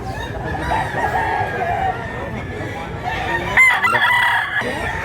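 At a live chicken market in Mantalungon, Cebu, a rooster's crow rises briefly over a busy background of clucking fowl and distant crowd murmur, fairly near and moderately loud.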